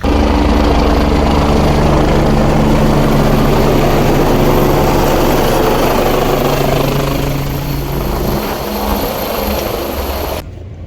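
Military aircraft flying past in formation shaped like a MiG fighter jet at a Rajouri Day army event in Jammu and Kashmir: a loud, steady, close engine and rotor roar that fills the whole stretch and fades slightly near the end.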